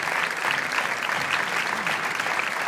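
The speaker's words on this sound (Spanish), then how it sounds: "un aplauso" Steady applause from a crowd at a gala, dense clapping that holds at an even level throughout without pause.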